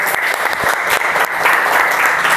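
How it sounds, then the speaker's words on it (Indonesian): A classroom bursts into steady, dense applause for a student group that has just presented, close and loud throughout. "beli tepuk tangan buat kelompok 3"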